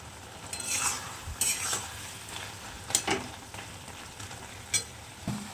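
A spoon stirs and scrapes through a cooked prawn, taro, pumpkin and Malabar spinach curry in a pan, in several separate scraping strokes over a soft, steady sizzle.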